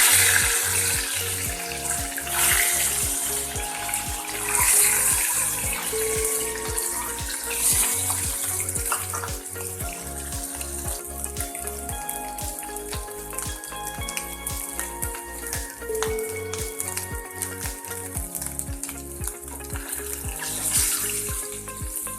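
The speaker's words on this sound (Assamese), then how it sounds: "মই ইয়াতে এতিয়া ডিমকেইটা ফ্ৰাই কৰি ল'ম" Eggs fry in hot oil in a pan with a steady, close sizzle that runs throughout, alongside a regular rhythmic thumping pattern.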